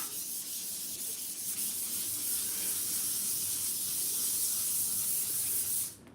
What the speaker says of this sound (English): I think we might be somewhere near with polishing this up now.